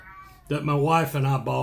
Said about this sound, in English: Pardon the cats.